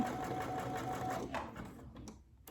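A Brother Essence VM5200 sewing machine stitches in a fast, even mechanical rhythm, close and steady, then slows and stops near the end.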